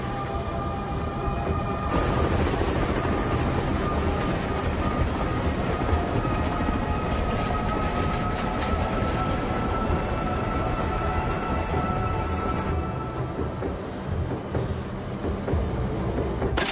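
An aircraft's engines roar during takeoff, a loud, dense, continuous drone that swells in the first seconds and holds steady for the rest of the run.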